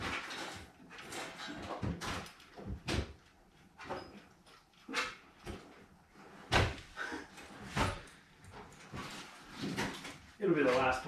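Wooden drawers sliding open and shut with knocks and thuds during a search through a workshop or garage, several sharp bangs spread out unevenly, with people talking in between.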